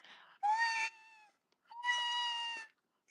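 A cat howls in two drawn-out, tonal yowls, the second longer, close and fairly loud, with a soft murmur between them.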